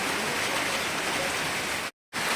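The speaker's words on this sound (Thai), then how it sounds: "บรรยากาศข้างนอก ก็ฝ นตกมื้อนี้ละ" Rain falls outdoors as a steady, dense hiss of drops on surfaces, continuous and fairly loud, broken once by a brief total dropout near the end, with no voices.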